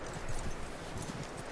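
Horse hooves clip-clop at a walking pace in the video game Red Dead Redemption 2, soft and slightly distant, with a faint background hiss.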